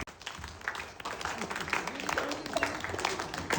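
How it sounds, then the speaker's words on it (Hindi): Audience applause at a dealers meet, loud and uneven, with scattered individual claps and crowd noise swelling through the moment while a voice can be heard faintly under it. "एक बार खुद के लिए ताली बजा दीजिए।"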